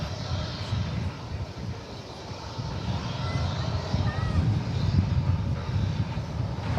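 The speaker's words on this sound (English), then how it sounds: "Here comes the flight from San Luis Potosí." Airliner on approach to DFW Airport inbound from San Luis Potosí, a steady distant engine roar and rumble building slightly over several seconds, with wind noise on the microphone and faint radio chatter.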